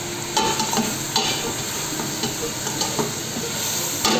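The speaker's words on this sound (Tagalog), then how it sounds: "So haluin natin hanggang sa mag-spread yung spices para lumasa po siya" Meat and spices being stirred in a frying pan for marag bamiya, an Arabic dish, with a steady sizzle and repeated scraping stirs of a utensil throughout, close and fairly loud.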